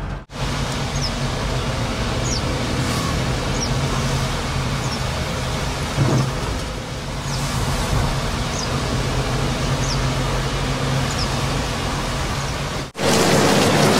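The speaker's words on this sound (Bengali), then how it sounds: "বাইরে প্রচণ্ড বৃষ্টি হচ্ছে" Heavy rain pours steadily outside a hotel near Buddha Park in Ravangla, making a dense, unbroken roar with a few faint chirps above it before an abrupt cut near the end.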